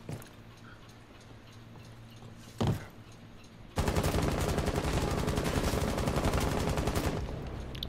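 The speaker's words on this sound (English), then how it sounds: "Where's shooting happening?" Video game gunfire: a faint background hum is broken by a single sharp shot, then a long loud burst of rapid automatic fire that rattles on for several seconds before tapering off, with no talk.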